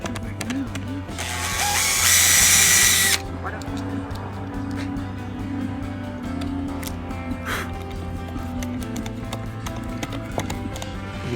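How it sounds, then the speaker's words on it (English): A power drill bores into a wooden wall art panel in one loud whirring burst of about a second and a half, followed by quieter workshop sounds and a steady background hum. "let's drill right in the middle"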